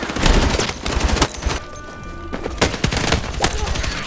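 Rapid bursts of automatic gunfire from a weapon in Battlefield 6 REDSEC, loud and close, with repeated sharp shots in quick volleys and short pauses between them.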